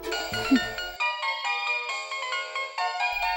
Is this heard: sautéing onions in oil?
no